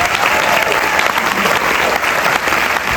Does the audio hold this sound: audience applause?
yes